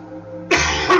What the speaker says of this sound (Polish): Kaszel mnie męczy